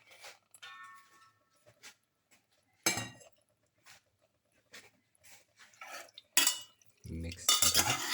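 Beef pieces being stirred into marinade in a bowl, giving scattered wet clinks and scrapes of a utensil with a few louder sloshing bursts, heard close up with no talking.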